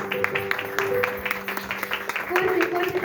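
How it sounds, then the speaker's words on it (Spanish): Applause from a church youth gathering audience, scattered clapping rising under a speaking voice, loud and close throughout. "Fuerte, fuerte aplauso"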